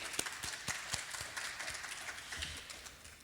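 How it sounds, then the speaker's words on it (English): Audience applause after a group exercise at a school parent council night: a steady wash of many hands clapping together, moderately loud and continuous throughout. "I want to give you a round of applause"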